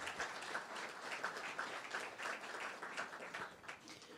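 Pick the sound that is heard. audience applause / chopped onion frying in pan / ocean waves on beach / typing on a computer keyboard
audience applause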